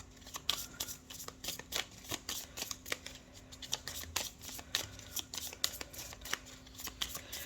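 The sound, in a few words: tarot cards being shuffled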